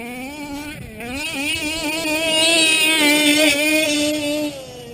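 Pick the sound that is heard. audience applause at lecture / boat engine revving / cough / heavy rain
boat engine revving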